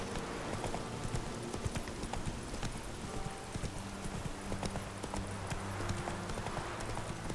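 Hooves of Roach, the horse in The Witcher 3, clip-clop in a quick, steady rhythm across the whole stretch, close and clear over a soft background of game ambience.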